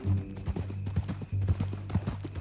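Horse hooves clip-clopping at a steady walking rhythm in Red Dead Redemption 2, close and clear, with a low mechanical hum underneath.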